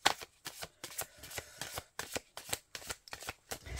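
Cards riffled and shuffled for a divination reading, a steady series of about eight crisp, close bursts in quick rhythm, loud and alone without speech.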